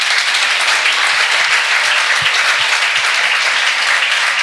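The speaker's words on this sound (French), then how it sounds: "Applaudissez-vous vous-même." School students applaud themselves in a packed hall, loud, dense, continuous clapping that holds evenly from start to finish without voices.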